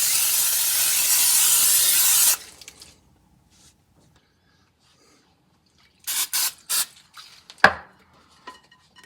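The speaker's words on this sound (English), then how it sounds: "just give it a real good spray." Cooking spray from a can sprayed into a baking pan for ice cream bread, one long steady hiss close by, followed by quiet and a few short clatters of the pan.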